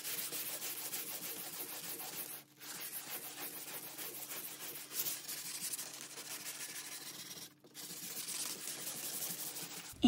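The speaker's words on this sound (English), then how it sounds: "Then I'm just gonna smooth everything out using 220 grit sandpaper." Hand sanding with 220 grit sandpaper over a wooden Jacobean buffet gives a steady, soft, close rasping rub in long continuous strokes, broken by two brief pauses, with no voices.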